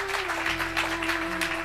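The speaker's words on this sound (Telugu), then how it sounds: "చప్పట్లు కొట్టి ఒకసారి యేసుని మహిమపరుద్దామా?" A church congregation claps steadily in unison, a dense, even patter of many hands that carries on throughout over a sustained low tone.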